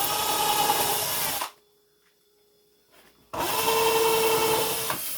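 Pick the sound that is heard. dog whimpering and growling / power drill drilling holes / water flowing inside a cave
power drill drilling holes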